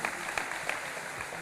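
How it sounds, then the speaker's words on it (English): An audience claps in steady, dense applause at a bill-signing event with the governor, a continuous even roar of many hands with no voices breaking through. "I want everybody to give a round of applause to yourself"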